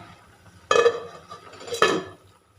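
A lid is set on a pot of olan, a Kerala curry, with two short metallic clanks about a second apart against a quiet kitchen background.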